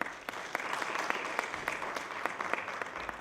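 An audience at a business summit claps steadily for a group of young entrepreneurs, the dense applause holding at an even level from start to finish.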